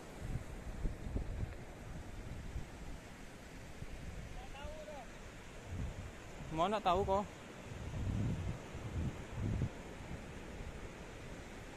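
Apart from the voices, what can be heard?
waves and wind at Lakitan beach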